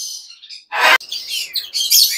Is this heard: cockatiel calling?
yes